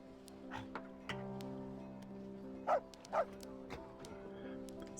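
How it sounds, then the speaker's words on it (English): In the fantasy survival game Rise to Ruins, creatures that sound like dogs give two short, sharp barks over a steady tonal game soundtrack. The barks are moderately loud, and there is no speech. "Holy cow, there's so many dogs."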